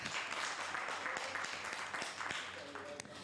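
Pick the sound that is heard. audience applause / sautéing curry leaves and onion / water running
audience applause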